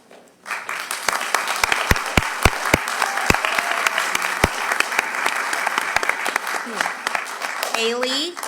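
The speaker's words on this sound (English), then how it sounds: "And we will all stand and give you a big round of applause." Audience at a school board meeting breaking into sustained applause with a few louder claps up close, a voice speaking briefly near the end.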